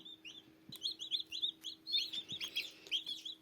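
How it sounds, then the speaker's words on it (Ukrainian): Shrill, rapid peeping from several tiny newly hatched chicks in a box, overlapping chirps in a busy stream, close but fairly quiet over a low steady hum. "а знаходяться в цьому ящику щойно вилуплені курчата"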